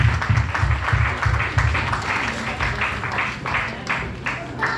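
A church congregation applauding at an evangelical centre's third anniversary service, sustained dense clapping with a rhythmic pulse early on, loud and continuous throughout.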